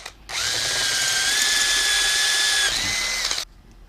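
A power drill bores a 1/8 inch hole in metal, a single continuous high whine lasting about three seconds, close and loud, with a slight pitch drop near the end before cutting off.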